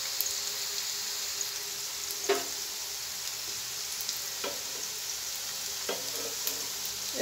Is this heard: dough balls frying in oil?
yes